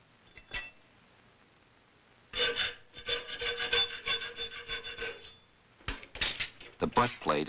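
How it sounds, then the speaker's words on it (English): A hand file rasps across the fitting edges of a brass butt plate for a colonial gun, a close, steady run of strokes with brief gaps and a few light clinks. "The butt plate is filed only on the fitting edges now."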